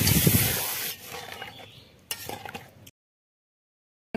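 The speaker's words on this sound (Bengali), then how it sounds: "এখন জল দিয়ে দেবো।" Water being poured into dough and worked by hand for green pea kachori, a wet mixing, rubbing sound that is louder at first, then softer with a few clinks, stopping abruptly near the end.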